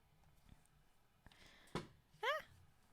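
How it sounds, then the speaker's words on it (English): A cat wearing a bell gives a short rising meow near the end, after a few faint taps and a soft thud in a quiet room. "Hello, kitty with a bell."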